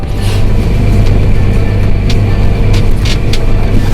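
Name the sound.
farm tractor driving itself on GPS satellite guidance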